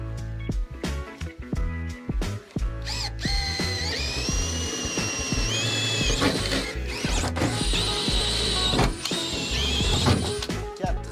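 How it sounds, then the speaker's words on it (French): A metal drill bit bores through the corners of a roof opening for a rooflight, giving a loud, sustained whining drill tone that rises and holds, broken by short stops and restarts, close up with no talk. "l'idée, ça va être de percer les quatre coins avec une mèche pour le métal, un forêt à métal même"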